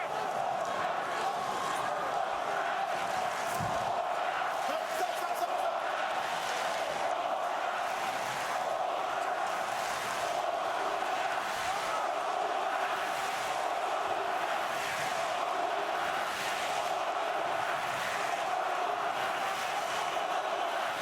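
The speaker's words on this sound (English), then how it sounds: "German crowd chanting as 2 Eastern European-born fighters square off in the ring." A German crowd chants steadily at a heavyweight boxing match between Vladimir Klitschko and Kubrat Pulev, a distant, even roar of massed voices with faint rhythmic pulses filling the arena.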